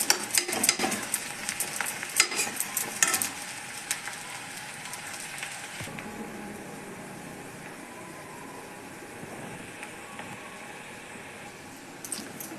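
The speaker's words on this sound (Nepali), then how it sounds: "लसुन यसमा अलिकति तेलमा फ्राई गर्ने हो ल।" Garlic, ginger and chili frying in oil with fenugreek seeds for a methi pickle, a busy close sizzle and crackle that is loud at first, then settles into a quieter steady hiss.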